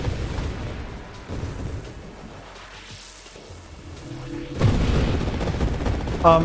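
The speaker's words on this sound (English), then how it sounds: "I think the Glaucus exploded and Rupture took care of literally everything." Booming explosions in the space shooter Nova Drift, grenade blasts and a ship detonation clearing the screen; a dense rumbling wash that dips in the middle, then surges again with a loud burst near the end.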